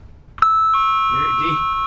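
A doorbell rings once with a sharp tone, then a sustained chime rings on. A voice can be heard under the tail of the chime.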